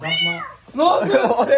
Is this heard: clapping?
no